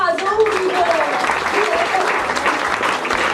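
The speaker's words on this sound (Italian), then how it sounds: "c'è un applauso, unico!" Audience applause after an Italian stage performance, a steady wash of clapping with some voices mixed in, lasting the whole moment.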